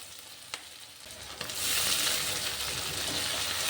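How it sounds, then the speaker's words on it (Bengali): Onions, whole green chilies and tomato fry in a pan as the base for ilish fish-head curry with taro stems. A few faint taps come first, then a loud, steady sizzle swells up and holds, with no talking. "আরও কিছুক্ষণ সব কিছু ভালোভাবে ভেজে নিচ্ছি।"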